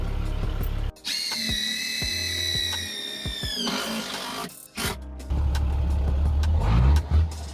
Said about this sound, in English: I'm gonna have to drill a hole.